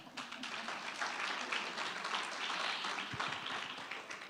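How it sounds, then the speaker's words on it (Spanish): Audience applause at a scientific congress awards session, honoring the president of the scientific committee; steady, dense clapping fills the whole span at moderate loudness with no talking. "un aplauso para ella."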